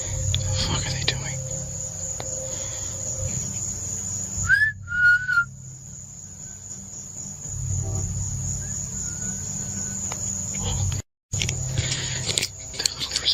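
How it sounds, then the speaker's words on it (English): A person whistling in the woods while camping: a couple of short, clear rising-then-held whistled notes, faint answering tones later, over steady insect chirring and an intermittent low rumble, with brief talking. "They're literally responding to my whistle."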